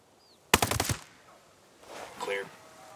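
A rapid burst of automatic rifle fire rattles out in the tactical shooter Ghost Recon Breakpoint, loud and close for about half a second, followed by quiet and then a squad member's brief radio-style voice.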